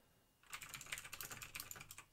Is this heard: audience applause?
no